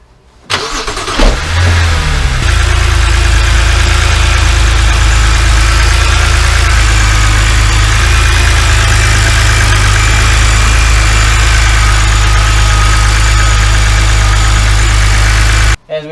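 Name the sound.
BMW E90 car engine started and idling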